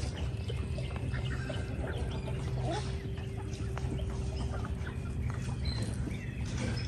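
Farm ducks peck at scattered seed, with faint, sporadic quacks and clucks under a constant, noisy outdoor background.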